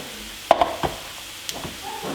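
Minced meat frying in a pan, with a few distinct stirring scrapes and clacks over a low, steady sizzle, close and moderately loud.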